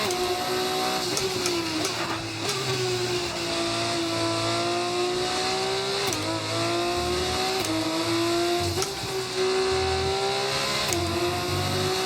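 An F2 race car engine in an F1 career-mode video game screams at high revs, pitch rising and dipping through gear changes and corners in a continuous, loud drone, with occasional tire squeal.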